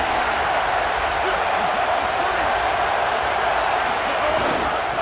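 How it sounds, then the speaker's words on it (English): Stadium crowd roaring in EA Sports College Football 27, a dense, loud, continuous wall of cheering and noise that holds steady throughout, with no clear breaks. "Listen to this crowd just shaking the girders of this place"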